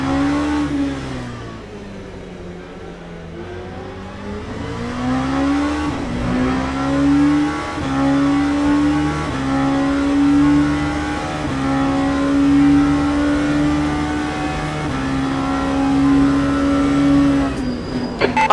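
A race car accelerates hard through its gears during a multiclass race at Silverstone, a loud, close onboard engine note rising and dropping with each shift and running steadily for the whole stretch.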